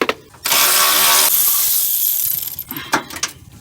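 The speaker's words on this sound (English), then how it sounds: "I'm doing this with a ratchet because I already loosened." A ratchet works a bolt on a Honda Accord transmission, giving a close, rapid clicking burst that blends into a long hissy rasp, then a few scattered clicks and knocks.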